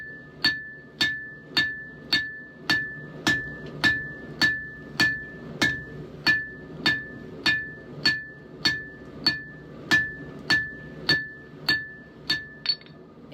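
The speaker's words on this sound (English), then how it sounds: "I'm just going to take the round side of my hammer and start drawing this out" A hammer's round face draws out square stock into a drift on an anvil: about twenty evenly spaced, ringing metallic blows fall at a steady brisk rhythm, each with a bright clang, close and alone.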